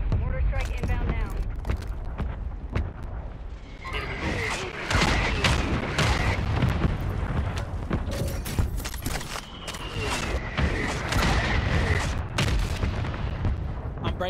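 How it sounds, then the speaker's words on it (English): Mortar strike explosions in the video game Warzone: loud repeated booms and crackling blasts fill the whole stretch, with talk mixed in throughout. "Mortar strike inbound now."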